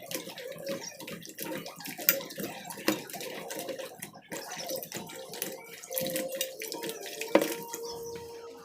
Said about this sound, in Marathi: आता आपण ह्याला पाण्यामध्ये धुण्यासाठी टाकूया।